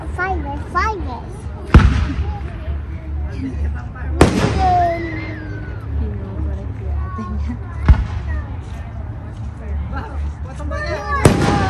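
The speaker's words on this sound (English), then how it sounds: "Yes, it is fireworks." Canada Day fireworks go off in several sharp, loud bursts spaced a few seconds apart, each followed by crackling and whistling trails, while people talk and exclaim in the background.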